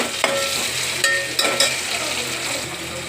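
Two medium tomatoes drop into onions frying in a pan and are stirred, giving a constant close sizzle broken by a few scraping and clattering stirs, with no one talking.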